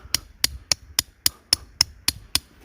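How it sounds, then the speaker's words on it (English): A hammer beats a steel rebar stake into the ground for a raccoon and possum trap set, nine sharp metallic strikes at a steady rhythm about every quarter second, close and clear with no talk. "take my hammer, and start beating this rebar"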